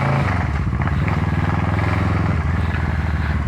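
A 2018 Kawasaki Versys 650 with its 650 cc twin-cylinder, radiator-cooled engine and Two Brothers exhaust idles close by in a steady, throbbing rumble, holding an even pace from start to finish with no clear revs.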